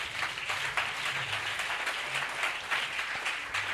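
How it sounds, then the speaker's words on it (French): A church congregation applauding in praise of God, with a steady, fairly faint wash of clapping that continues throughout with no break. "Gloire à Dieu, acclame le Seigneur."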